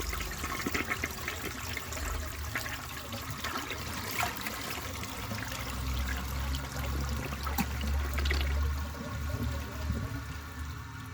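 A 1953 AllianceWare toilet flushes with a dish towel in the bowl: a steady, close rush and gurgle of water that swells and churns over several seconds, with no voices.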